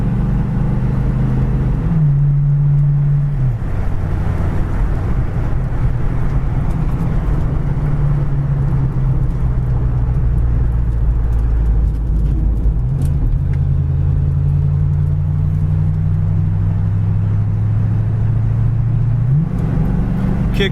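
A 1971 Mustang convertible with a 302 two-barrel V8, heard from inside while driving: a steady, loud engine drone that shifts pitch briefly near the start and again near the end.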